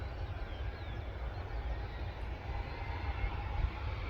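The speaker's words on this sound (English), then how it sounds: "There you go, the engines are coming back on." Jet2 airliner engines running at Manchester Airport, a steady low rumble and hiss heard from a distance outdoors with no other sound over it.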